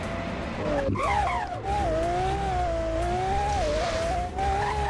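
A car in a Roblox driving game accelerates with a loud, steady engine whine that rises and wavers, with a brief skid partway through, over constant game noise.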